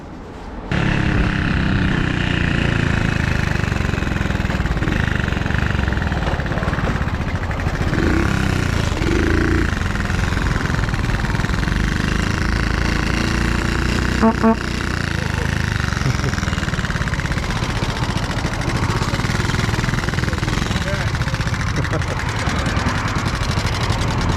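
A motorcycle idling after being ridden flat out, heard at a UK motovlogger meet-up: a loud, close, steady engine rumble running continuously, with brief voices in the background.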